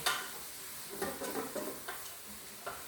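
Vegetables sautéing in a pan, a soft continuous sizzle broken by several stirring scrapes and light clinks of a utensil, fairly close and quiet with no talk.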